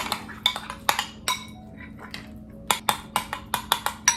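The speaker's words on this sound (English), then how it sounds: "I take my spoon and I give it a really good stir" A spoon clinks against a bowl while stirring an avocado toast mixture, a series of sharp, bright taps in two clusters with a quiet pause between them, close and alone.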